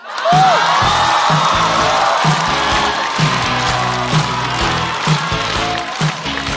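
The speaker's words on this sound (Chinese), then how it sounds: "掌声欢迎贾浩" Audience applause and cheering greet a stand-up comedian walking onstage at a televised comedy show, a steady wash of crowd noise over a pulsing walk-on music beat.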